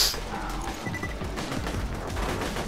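Repeated pistol shots in Borderlands 2 co-op play, a steady run of moderately loud shots with mechanical game effects and no talking.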